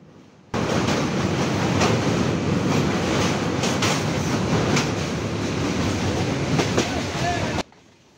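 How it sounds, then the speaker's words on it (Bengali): Chitra Express passenger train crossing the Baral bridge over the Baral river in Pabna district, Bangladesh, on the Khulna–Dhaka route: a loud, steady rumble and rhythmic rail clatter starts abruptly, runs continuously for about seven seconds, then cuts off. "আমাদের ট্রেন প্রবেশ করলো বড়াল নদীর উপর নির্মিত বড়াল ব্রিজ।"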